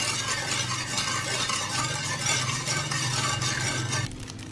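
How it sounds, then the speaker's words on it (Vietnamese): A spoon stirring sugar and salt into vinegar and water for pickled bean sprouts, a steady scraping swirl against the bowl lasting several seconds before stopping abruptly, close and moderately quiet. "Và mình sẽ khuấy cho nó tan. Cho nó tan cái đường với muối vô với giấm"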